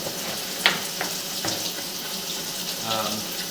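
Water runs continuously to rinse the lens of a sewer inspection camera in an old, roughly 100-year-old sewer line. The splashing stream is close and steady, with a few sharp knocks and clanks over it.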